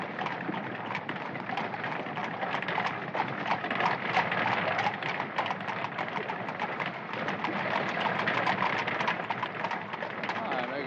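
Horse hooves from a horse-drawn cab clip-clop steadily on a street in a 1976 film scene set in New York, with a continuous moderate rhythm over rolling wheel noise and ambient bustle.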